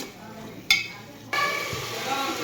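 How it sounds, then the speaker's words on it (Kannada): Spices sizzle in a hot pan as they are stirred, with a sharp metallic clink before a steady, hissing fry rises and holds close by. "ಇವು ಸ್ವಲ್ಪ ಫ್ರೈ ಆಗ್ಬೇಕು ರೀ ಭಾಳ"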